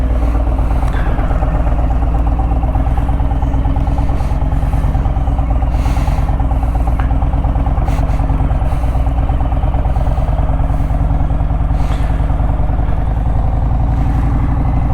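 Harley-Davidson Street Glide motorcycle on a short ride, its steady engine rumble and wind noise running loud and unbroken throughout.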